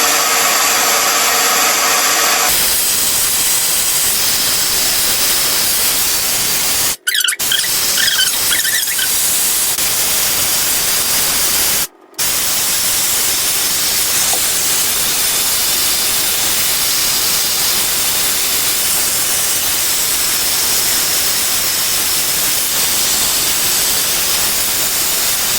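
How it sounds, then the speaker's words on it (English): A Wavy Talk hair dryer fitted with a diffuser blows a loud, steady airy roar with a high whine, cutting out twice for a moment before running on, with no talking. "This is by Wavy Talk and it comes with a diffuser."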